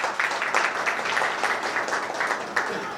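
An audience at an institutional gathering applauds a woman leading the institution and the IQSC coordinator, with steady, moderately distant clapping that carries on without pause.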